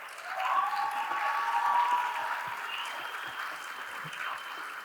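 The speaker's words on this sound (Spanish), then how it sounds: "le demos la palabra y un aplauso grande a Gloria Careaga." Sustained audience applause at a panel event, a dense wash of many clapping hands heard from some distance, swelling early then gradually easing off.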